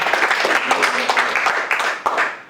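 Applause and cheering from a church congregation, a continuous crowd of hands clapping with raised voices mixed in, steady and fairly loud throughout.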